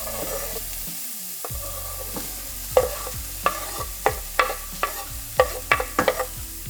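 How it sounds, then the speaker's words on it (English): Onions and peppers sizzle in an oiled pan while a utensil scrapes and stirs them in a quick series of knocks, with the steady frying hiss close by. "Go in with the onions and peppers."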